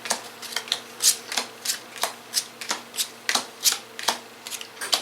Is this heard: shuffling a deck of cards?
yes